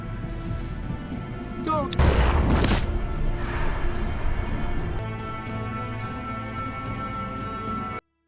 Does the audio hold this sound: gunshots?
yes